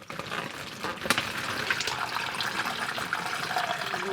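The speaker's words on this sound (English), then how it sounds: "We'll just pour in the water, and we're ready to set it." Water pours steadily into a plastic yellowjacket trap bag outdoors in a backyard, a continuous close splashing fill with no talking.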